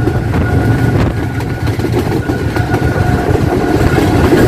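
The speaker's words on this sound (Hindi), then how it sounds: "मुसलसल 105 किलोमीटर पर आवर की स्पीड पर लाहौर में दाखिल हो रही है 7 तेजगाम एक्सप्रेस।" The Tezgam Express passenger train runs at about 105 km/h into Lahore, heard from aboard as a loud continuous rumble with rhythmic clickety-clack of wheels over rail joints.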